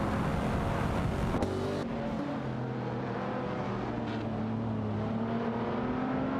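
Race car engines in an AI racing game, a Lamborghini Murcielago SV and a Lotus Emira battling for position, a continuous loud engine drone with shifting pitch and a gear change early on, no talk.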